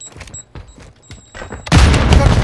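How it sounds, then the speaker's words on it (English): A grenade bursts in a Search and Destroy video game match, a sudden loud, broad blast that fills the end of the moment after a few scattered thumps and shots. "I got hit with a nade"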